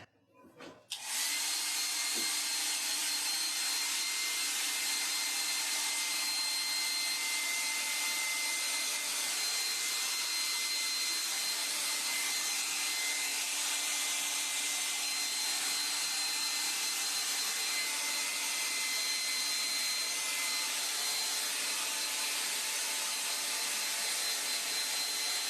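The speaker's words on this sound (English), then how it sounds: "I'm going to turn on the hairdryer." A hair dryer blows with a steady loud whoosh and whine, switching on abruptly and running continuously without a break.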